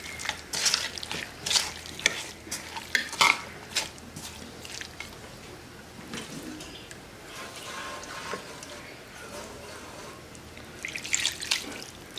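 Ingredients being mixed and stirred by hand with oil for a goat meat dish, with wet squelching and clicking stirs in irregular bursts, close by, with a quieter stretch in the middle.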